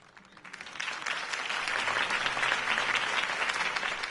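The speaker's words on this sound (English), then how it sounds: "could have heard that applause" A crowd breaks into applause in the Batman Telltale Series video game, swelling quickly and holding steady, loud and sustained clapping from many hands.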